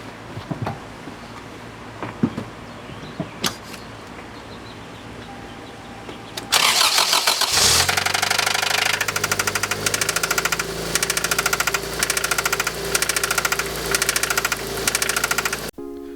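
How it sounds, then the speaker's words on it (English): A 1993 Toyota Celica engine cranks, catches and settles into a loud, steady idle with a rough, knocking rumble; a few faint clicks and thumps come before it starts. "we wanted to show you guys what the engine sounded like before we started to work on it."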